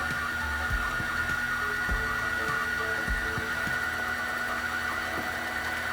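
A sewing machine winds thread onto a bobbin with a steady mechanical whir and faint rhythmic ticking, running continuously at low level with no talking.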